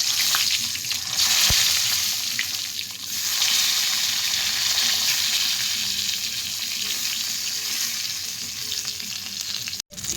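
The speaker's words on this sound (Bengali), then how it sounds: "বেগুনগুলো একটু ভেজে নেবো" Eggplant pieces fry in hot oil with a steady, dense sizzle that fills the whole stretch, swelling briefly at a couple of moments as the pieces shift in the pan, with no voices.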